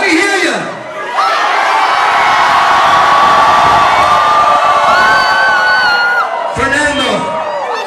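A nightclub crowd awaiting a Cascada live show cheers and whoops loudly and continuously, with high shrieks and yells riding over the din for several seconds after a brief lull at the start.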